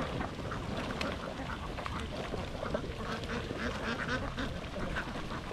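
A large flock of more than 2000 farmed ducks quacks continuously in a dense, steady chatter at close range, with a low background rumble and no clear talk.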